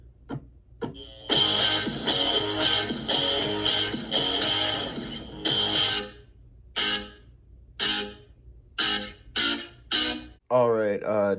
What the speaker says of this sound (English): And that doubling that I just did with the Les Paul sounds like this.